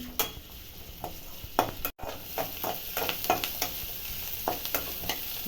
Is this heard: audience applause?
no